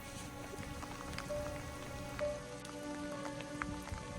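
Rain patters steadily on surfaces high on Mount Kerinci near a trail shelter, a soft, continuous wash of drops with faint tonal background noise and no talking.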